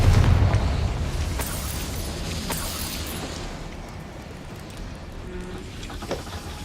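Confringo fire spell blast in the video game Hogwarts Legacy, a loud booming explosion at the start that decays into a long rumbling tail, with faint sharper crackles scattered through the fade.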